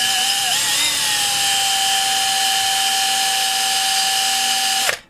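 A power drill bores a hole through a bench power supply case, giving a loud, steady high-pitched whine that holds for nearly five seconds and then cuts off abruptly.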